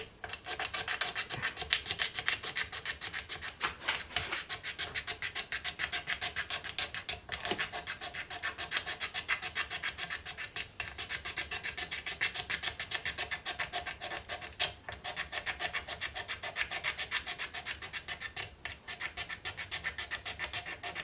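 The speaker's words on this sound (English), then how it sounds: "with the razor blade or with the Stanley knife you can just easily just gently rub over it" A razor blade or Stanley knife rubbed gently along a guitar fingerboard makes a steady, continuous scratchy rasp with rhythmic strokes, close up and fairly quiet, with no voices.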